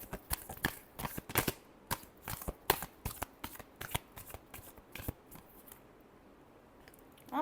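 Tarot cards being shuffled by hand, a quick run of sharp riffling snaps in irregular bursts, close and crisp, tapering off near the end with no voices.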